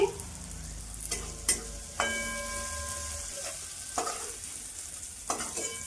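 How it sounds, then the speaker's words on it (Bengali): Prawns fry in oil with a continuous soft sizzle, punctuated every second or so by sharp clinks of a utensil stirring against the pan. "মাছটা একটু ভেজে নিই"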